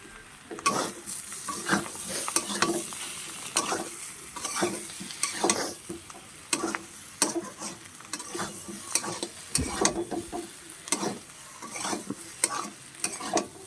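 Potatoes for a vegetarian aloo dum are stirred and sautéed in oil. A spatula scrapes the pan in a quick, repeated rhythm over a constant close sizzle, with the occasional clink of metal.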